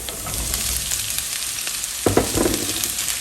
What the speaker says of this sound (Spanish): Y lo único que quiero es que se fría un poquito